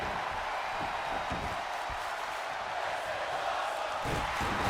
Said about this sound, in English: Crowd is loving every second of this match